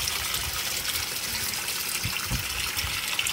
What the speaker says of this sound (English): That's the full siphon kicking in. And if you look on top, you can see the water draining out pretty fast.